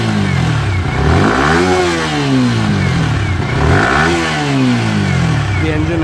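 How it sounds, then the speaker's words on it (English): A Yamaha R15 V3.0 motorcycle engine revs up and down twice, rising and falling in pitch, loud and close. "smooth sounding engine"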